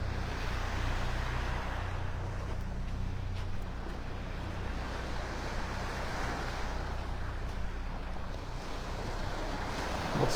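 Small ocean waves break and wash in and out on Vanderbilt Beach in North Naples, Florida, a steady close surf hiss under light wind noise, with a low background rumble and no talking.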